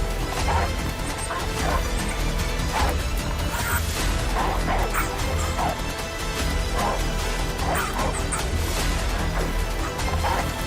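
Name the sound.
African wild dogs barking and fighting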